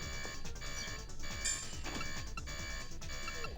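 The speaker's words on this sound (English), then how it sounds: "Video games need a less alarm noises." An alarm in a Dreamcast video game sounds as steady, sustained electronic tones layered over busy repeating game music, loud and continuous throughout.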